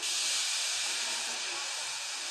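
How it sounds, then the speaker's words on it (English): Steam locomotive venting steam weakly, a continuous close hiss that holds level with slight fading and no voices. "He just let off steam feebly."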